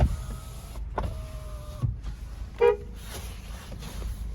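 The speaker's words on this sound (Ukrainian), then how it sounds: "Гудок працює" A short car horn toot rings out once, brief and close, amid engine hum and a faint electric whir.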